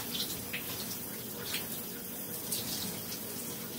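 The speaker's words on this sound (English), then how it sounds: "Don't mind the water. That's going to be a normal noise through this." Shower water running indoors, a continuous faint hiss and patter of spray with small splashes scattered through, steady throughout with no voices.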